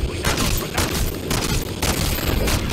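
Rapid, loud gunfire from a Longbow sniper rifle in the Modern Warfare 3 Zombies video game, a dense barrage of shots running continuously with no talking.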